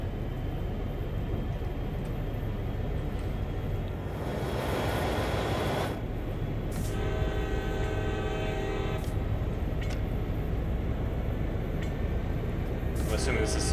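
CSX heavy-haul freight locomotive in Train Sim World pulling away on a winter service, a loud steady rumble of diesel engine and rolling train with a brief high horn-like tone midway, continuous and close.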